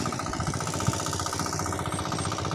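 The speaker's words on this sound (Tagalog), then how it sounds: "Kumuha ng backup na makina, yung tinatawag na Landmaster," A Landmaster backup engine machine chugs steadily as it approaches across a deep, muddy rice farm, a continuous rhythmic mid-pitched engine thrum heard alone.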